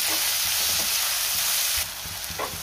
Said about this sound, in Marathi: आता आपण ह्यामध्ये कांदा घालूया आणि कांदा चांगला लाल रंग येईपर्यंत परतून घ्यायचा आहे